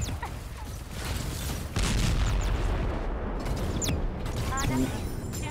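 Gunfire in the mecha battle game Super Mecha Champion: dense, rapid bursts and metallic booms over mechanical clanking, fairly loud and continuous, with a player's voice talking and laughing over it.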